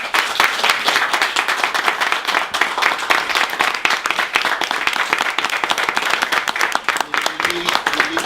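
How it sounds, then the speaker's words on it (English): A room full of people applauds a bookstore with loud, continuous clapping, distinct individual claps standing out within the steady roar for the whole stretch. "let's give this bookstore a hand round of applause"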